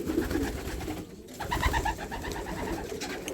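Racing pigeons coo steadily in soft, rolling calls, several birds close by in a loft, with a low rustle and shuffling beneath them.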